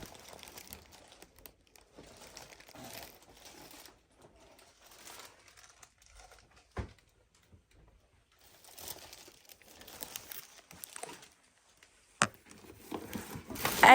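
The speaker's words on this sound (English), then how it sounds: "I was able to find the noisiest plastic bag of all time to carry my perfumes around in" A very noisy plastic bag holding perfume bottles crinkles and rustles in faint, intermittent bursts, with a couple of sharper crackles and louder rustling toward the end.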